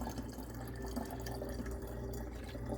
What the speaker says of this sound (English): And then I'm just pouring it into my bottle.